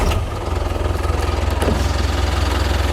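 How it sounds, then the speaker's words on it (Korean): A used 2010 Hyundai e-Mighty truck with 349,000 km on it runs close by, its engine catching and then settling into a steady, loud idle with an even, throbbing rhythm. "제가 시동을 한번 걸어볼게요"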